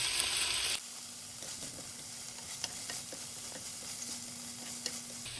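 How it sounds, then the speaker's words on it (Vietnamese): Shrimp stir-frying in a pan with oil and onion gives a steady, close sizzle, with light scrapes and stirring clicks over it throughout and no voices. "Cho vào chảo một chút dầu và phần hành còn lại phi thơm, rồi cho tôm vào xào cho thấm gia vị."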